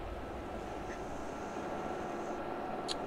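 A fighter plane flying in a naval battleship-versus-destroyer video game gives off a steady, droning engine roar that holds at an even level for the whole stretch, with a brief faint high chirp near the end.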